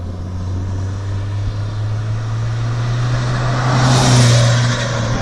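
A JDM-swapped 1991 Toyota MR2 Turbo with no blow-off valve drones steadily from inside the cabin, with turbo air rushing through the intake pipes and a hiss that swells near the end.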